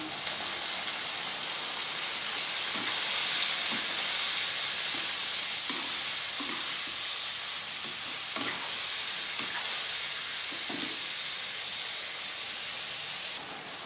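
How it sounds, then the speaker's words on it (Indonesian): Long beans stir-fried with salt and a splash of water, a loud continuous steamy hiss and sizzle with soft intermittent knocks of a spatula in the pan. "Ini kita oseng-oseng."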